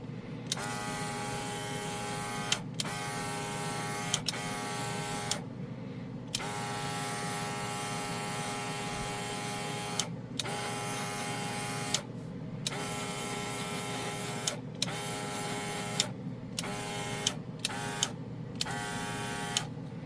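An all-in-one airbrush system spraying paint onto a model car body gives a steady buzzing motor hum with a hissing spray, broken by several short gaps where it cuts out briefly before resuming.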